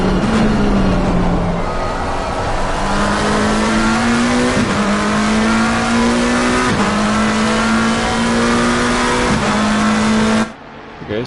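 A McLaren GT3 race car at full throttle on the Kyalami circuit in a racing game, its engine droning loud and steady and climbing in pitch through repeated upshifts, then cutting off abruptly near the end.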